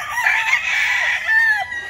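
A rooster crows on a poultry farm, one drawn-out crow rising and falling, loud and close, with faint clucking from chickens at the start.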